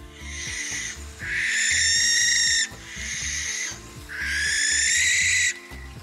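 A barn owl gives repeated harsh, hissing screeches, two long rasping calls each lasting over a second, heard against a low rhythmic backing track.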